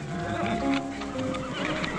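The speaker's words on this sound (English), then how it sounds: "You listen to horse." A horse whinnies and fidgets close by on a Western ranch, its neighing mixed with shuffling hooves and a low, continuous background hum, with no talk.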